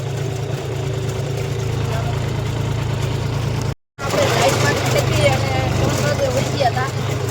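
A tractor engine runs at a steady, close drone during night ploughing on a farm. The hum is cut off for a moment midway, then the engine returns slightly rougher.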